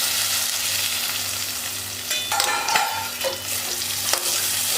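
Vegetables for a banakonti curry frying in a pan, a steady close sizzle with a low hum underneath, interrupted by scraping and clattering as a spatula stirs them.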